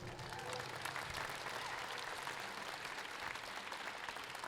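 An audience at a charity fundraising auction for children applauds donors, a steady, dense patter of clapping with a few murmuring voices, fairly quiet and even across a few seconds.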